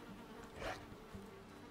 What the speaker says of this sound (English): He's afraid of the bees.